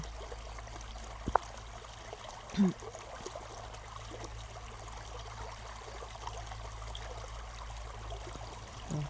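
Rainwater flows steadily across a flooded road after heavy rain, a faint continuous trickling rush with a few brief knocks, heard alone.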